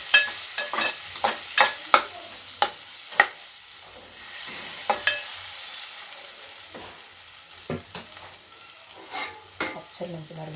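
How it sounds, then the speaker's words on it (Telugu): Amaranth leaves frying in oil with onion and green chili, heard as a low continuous sizzle broken by frequent sharp scrapes and taps of a spoon stirring against the pan. "ఒక పక్కన తోటకూర తాలింపు పెట్టేసిన"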